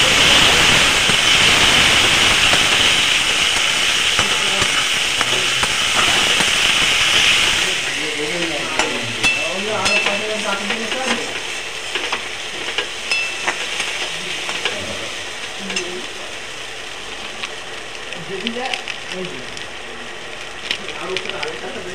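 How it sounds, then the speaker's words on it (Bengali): Spices fried with turmeric, white and black cumin, radhuni and green chillies in a pan. A loud hissing sizzle dies down after several seconds into quieter, steady frying with stirring scrapes and clatter. "হলুদ, ভালো করে মশলাটা দিয়ে কষিয়ে নেব"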